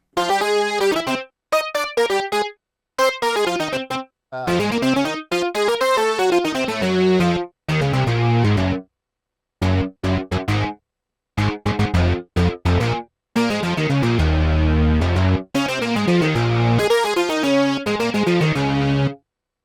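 A synthesized guitar-like lead from Logic Pro 11's Modern Wave synth plays a choppy phrase of short bursts and sustained notes with gaps between, bright and distorted, loud and close.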